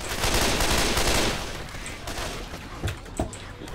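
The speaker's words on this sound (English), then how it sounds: "He's shooting me!" Gunfire in the video game Left 4 Dead 2 on its hardest difficulty rattles in a dense sustained volley that fades into a few scattered single shots, loud and close.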